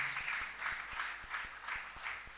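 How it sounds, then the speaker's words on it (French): Audience applause for the Dutch ambassador, faint, distant clapping in a room, with a steady rhythmic pulse running through it. "Je vous prie de l'applaudir très très fort, elle est là."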